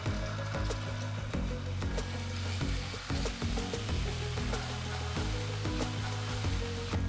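Tomato ketchup hitting a pan with about a teaspoon of oil gives a busy, crackling sizzle with scraping stirs, close and steady for several seconds, no talk.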